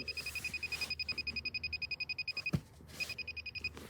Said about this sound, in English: So that beeping's telling me that it's wet there